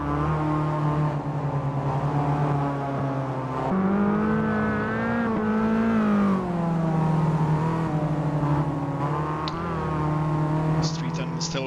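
Caterham race car engines in the Automobilista 2 sim racing game on the Curvelo Short circuit, a steady droning, rising and falling whine of several cars through a final lap, loud and continuous, with a commentator's voice over them.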